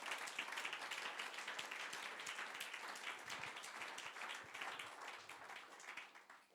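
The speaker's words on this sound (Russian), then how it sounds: "Давайте за все это дадим большие аплодисменты." A church congregation applauds at an Easter service: sustained, fairly soft clapping from many people, keeping an even level before thinning out toward the end.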